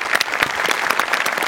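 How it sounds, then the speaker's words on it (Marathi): An audience applauds a musical comedy performance on a Marathi TV stage show, a dense, steady burst of clapping from many hands, loud and close with no pauses. "जोरदार टाळ्या."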